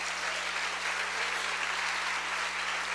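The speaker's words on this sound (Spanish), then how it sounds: "Denle un aplauso al Rey bendito." A church congregation gives sustained, steady applause at an evening worship service, a dense, even wash of clapping from many hands that holds at the same loudness throughout.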